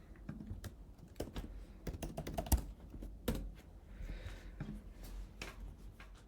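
Rapid typing on a computer keyboard, a steady run of close, crisp key clicks with short pauses and a few heavier strokes, with no voices.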